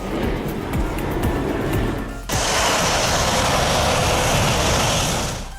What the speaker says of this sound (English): Nothing beats a carrier launch when those burners kick in full power.